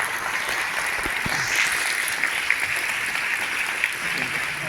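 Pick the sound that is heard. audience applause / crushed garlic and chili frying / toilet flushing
audience applause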